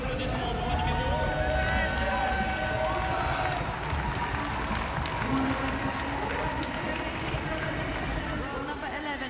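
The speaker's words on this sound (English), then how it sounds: "et vos applaudissements pour le numéro 1." Spectators applaud and murmur in the arena at the FEI Driving World Cup horse-driving competition in Lyon, a broad steady crowd wash beneath an announcer's amplified voice that runs throughout.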